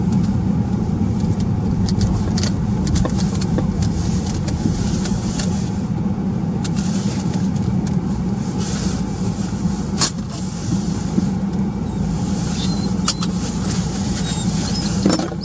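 A car pulls off the A684 into a lay-by beside a road bridge, its engine humming steadily at moderate volume with continuous road and tyre noise and a few faint clicks, no talking.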